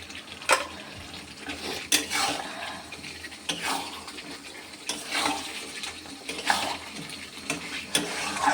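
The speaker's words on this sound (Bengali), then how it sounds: "এই আলুগুলো দিয়ে একটু নাড়াচাড়া করে জলটা দিয়ে দেবো" Fried potatoes are stirred into sizzling spice paste in a pan while making katla fish kalia, a soft continuous sizzle broken by repeated scraping spatula strokes about every second and a half.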